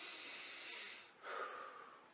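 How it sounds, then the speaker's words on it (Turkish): Deep breathing while walking: a long, steady airy inhale followed by a stronger, louder exhale, close and alone without talk. "bu şekilde nefes alırsanız işte akciğerlerinizi doldurursunuz, daha rahatlarsınız"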